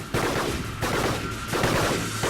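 Robots trade rapid gunfire in the Gladiabots video game, dense bursts of synthetic shots repeating in waves, loud and continuous with no talking.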